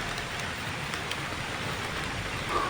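Steady rain pouring down, a dense even hiss with scattered drops, continuous and fairly close, no voices.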